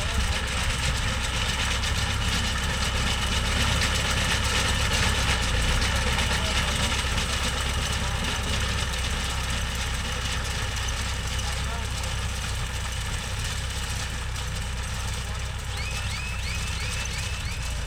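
A Mahindra Yuvo Tech Plus 585 4WD tractor running a Bharat baler for straw rolling, its diesel engine holding a steady, dense low drone with busy mechanical clatter throughout, close and constant, with a voice faintly underneath.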